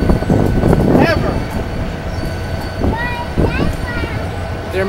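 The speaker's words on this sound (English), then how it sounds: "first National Train Day year to see a freight train on the High Line going north" A freight train heading north on the High Line rumbles past close by, with heavy rolling noise and bright wheel squeals rising and falling, loud throughout.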